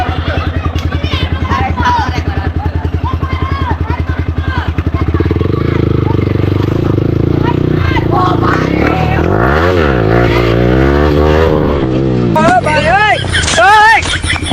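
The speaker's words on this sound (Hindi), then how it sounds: "भाई व्हीली मार रहा था गाइस, भाई किधर घुस गया भाई?" A motorcycle engine revs and labours loudly during a wheelie attempt on a long ride in Chhattisgarh, rising and falling in pitch with clattering, while voices talk over it.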